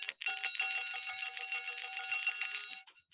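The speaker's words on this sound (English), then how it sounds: "It's a Chinese medicine bell." A metal Chinese medicine bell, an enclosed bell pulled out of the ground, shaken steadily for about three seconds, giving a continuous bright jingling rattle with ringing tones, close and fairly loud, with no talking.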